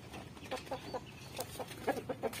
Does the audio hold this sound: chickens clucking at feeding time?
yes